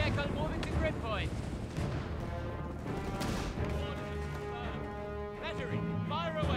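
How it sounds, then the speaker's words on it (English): Rocket artillery fire in the Company of Heroes 3 video game during a Gazala battle, a dense rumbling barrage of booms and whooshes under ongoing game voices and radio chatter, with music underneath. "So rocket artillery coming in."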